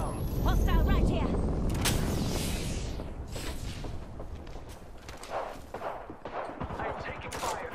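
Rapid bursts of gunfire in the battle royale game Apex Legends, loud and dense at first then continuing as scattered shots, with game voice lines and character callouts talking over the action.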